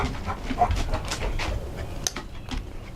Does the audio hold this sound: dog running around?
yes